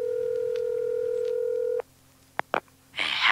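A telephone number being dialled on a phone: a steady tone holds, then a few short keypad beeps sound close and clear in an otherwise quiet line, followed by a burst of noise.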